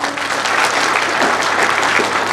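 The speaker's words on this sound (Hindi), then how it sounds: "आप लोग उनको विशेष तालियां बजाकर बड़ी गणराज के साथ स्वागत करिए" Loud, dense crowd applause welcoming WWE wrestler Saurav Gurjar at a large public reception in Daboh, a continuous roar of many hands clapping close up throughout.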